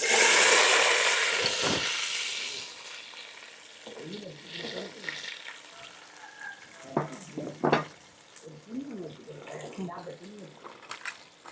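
Onions hit hot oil with a loud burst of sizzling that gradually settles into a softer crackle, while a person talks over the frying, cooking Kerala-style chicken fry with cumin.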